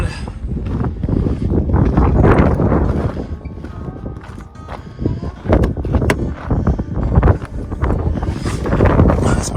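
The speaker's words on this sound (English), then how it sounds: "There's that wind." Outdoor wind buffets the microphone at a campsite, making loud, uneven rumbling gusts that rise and fall throughout with no clear pauses.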